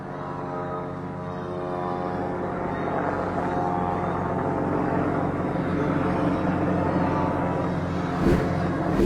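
Israeli helicopters fly over Palestinian tents, producing a steady, droning engine and rotor hum that stays continuous at a moderate distance, with a brief louder thump near the end.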